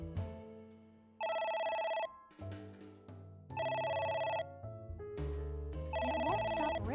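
A telephone ringing in the video game AI The Somnium Files, loud and close, with a repeated electronic bell trill in regular bursts over an ongoing game music backdrop and no talk.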